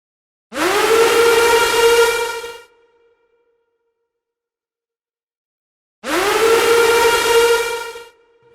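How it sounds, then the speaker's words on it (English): Two loud siren-like sound-effect blasts in a composed music track, each about two seconds long with a rising start and bright harsh tone, separated by silence. "And then I have some sirens that come in throughout the track."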